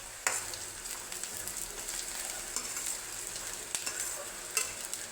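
Onion and tomato frying together for chicken curry, a continuous close sizzle with soft scraping stirs and a few brief clacks of the spoon on the pan.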